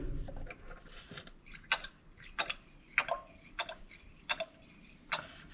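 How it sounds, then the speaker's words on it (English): Fuel poured in small amounts into a small engine during cleaning and repair work, heard as a quiet series of distinct drips and liquid taps at an uneven rhythm, close by. "So let's pour a little fuel in there."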